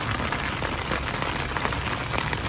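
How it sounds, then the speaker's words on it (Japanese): Steady rain falls outside on a morning during a Tohoku motorcycle touring trip, a continuous broadband hiss of drops on surfaces that holds an even level throughout with no voices. "雨ですよ。"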